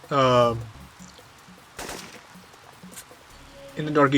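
A single sniper rifle shot from the Syphon Filter Washington Park mission bursts out sharply in the middle, with faint clicks around it and a voice talking before and after.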